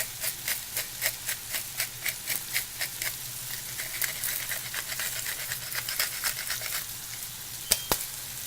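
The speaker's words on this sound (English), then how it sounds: "So you saute this for about a minute, maybe two, and it'll cook the alcohol out." A pan of whiskey sautéing for a smoked salmon pasta sizzles steadily as the alcohol cooks off, with regular stirring clicks at first and a soft crackle and hiss continuing close by. No one talks over it.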